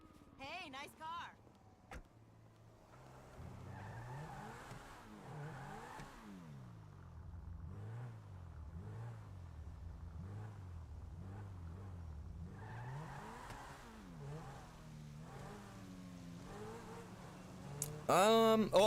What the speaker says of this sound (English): Hey, nice car.